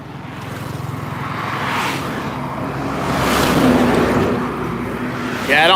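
Traffic rumbles along a road, with vehicles approaching and passing in a steady, swelling hum of engines and tire noise that builds and fades over several seconds.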